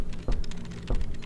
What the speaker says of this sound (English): Typing up some stuff.